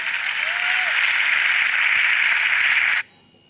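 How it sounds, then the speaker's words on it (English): Loud, dense applause from the audience at the 2018 MotoGP awards in Valencia, honoring a race winner. The clapping is steady and then cuts off abruptly near the end. "a round of applause for the win today here in Valencia."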